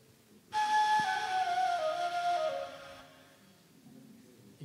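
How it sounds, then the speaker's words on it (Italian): Persian reed end-blown flute sounded by blowing across the open tube, a single breathy sustained tone that slides slightly downward in pitch and fades after a few seconds, alone in a quiet room. "In questo particolare flauto, che è un flauto persiano"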